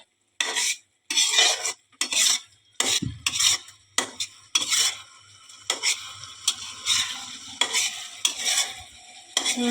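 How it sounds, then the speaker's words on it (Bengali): Chili powder and spices stirred in a cooking pot, repeated scraping strokes of a metal spoon against the pan in bursts, with a faint sizzle underneath, close and fairly loud. "লাড়ো লাড়ো লাড়ো সুন্দর করে মশলা কষাও"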